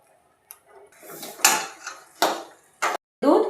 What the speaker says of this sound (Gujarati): ધીમા ગેસે આવી રીતે આપણે 5 મિનિટ હલાવતા જ રહેવાનું છે